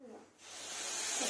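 Tomato chutney going into a pan over a low flame, a soft hiss rising after a brief pause and building into a steady, close sizzle.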